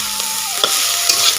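Fenugreek greens and eggplant are stirred in a hot frying pan, with a steady loud sizzle and a few sharp spatula scrapes against the pan.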